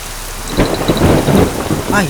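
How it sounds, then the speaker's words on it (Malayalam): Heavy rain pours down as a thunderclap rumbles nearby, loud and close for a brief moment. "നന്നായിട്ട് ഇടിയും വെട്ടുന്നുണ്ട്"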